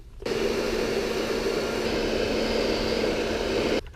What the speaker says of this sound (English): this is a very expensive hair dryer